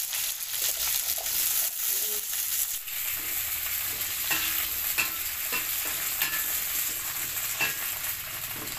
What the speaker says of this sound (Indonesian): Terasi juga digoreng sekalian ya.